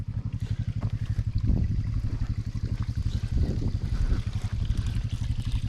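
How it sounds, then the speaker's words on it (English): Water leaks and trickles in a steady, rhythmic stream with soft repeating pulses and low gurgling, continuous and fairly close, with no voices. "So we're leaking water again."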